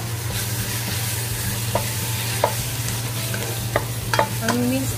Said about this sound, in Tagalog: Pwede na natin igisa ngayon ang ating minced na chicken.